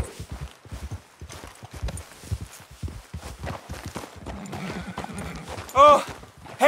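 Horse hooves clip-clopping in the Western open-world game Red Dead Redemption 2, a steady run of hoofbeats fading under game voices and ambient sound, with a brief sharp whinny-like call near the end.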